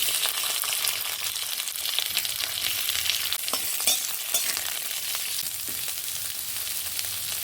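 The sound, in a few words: sliced onions frying in oil with dried chilli and nigella seeds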